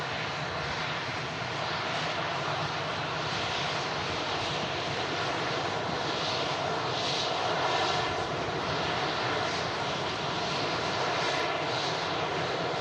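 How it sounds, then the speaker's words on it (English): An Embraer jet at Manchester Airport gives a long, steady roar of engine noise on landing that holds level throughout with no talk over it. "reverse is stowed on the Embraer there."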